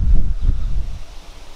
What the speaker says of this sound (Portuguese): Desculpem se está um bocado de vento